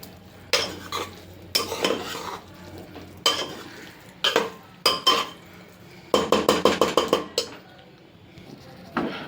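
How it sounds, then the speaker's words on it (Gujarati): A spoon stirs Surti veg tapelu masala in a pot with a low sizzle underneath, giving irregular scraping and clinking strokes close by, then a quick run of about seven rhythmic scrapes near the end, with no talking. "આ મસાલાને પણ હું આવી રીતે બરાબર મિક્સ કરી લઈશ"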